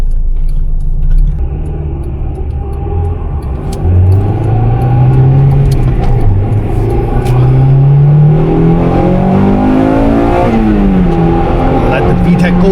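A Honda car with a VTEC engine accelerates hard on a drive in Japan, the engine note climbing through several rising pulls and gear changes, loud and close from inside, with voices over it.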